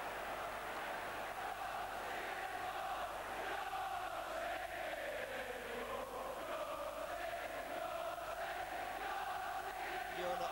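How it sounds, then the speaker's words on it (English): A large football crowd at Highbury during Arsenal against Aston Villa chants and roars steadily and loudly at a distance. The sound is a dense, continuous wash of many voices rising and falling in a sung taunt, with no single voice standing out. "And that has got the crowd going."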